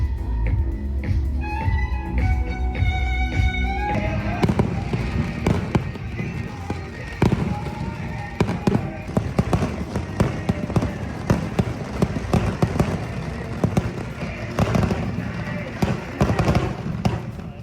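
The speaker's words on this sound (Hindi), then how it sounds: "इतने पटाखे तो जिंदगी में नहीं देखे मैंने जितने इन्होंने बजा दिया आज" Dense fireworks and firecrackers explode in rapid, irregular cracks and pops at a seaside celebration in Vietnam, continuous and loud over a steady crowd-and-music background for many seconds.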